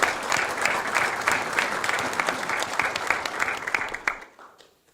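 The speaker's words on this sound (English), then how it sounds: "please join me in giving them a round of applause for encouraging this process." A crowd at an academic energy symposium applauds the deans, a dense round of clapping that carries evenly for about four seconds, then tapers off quickly into near silence.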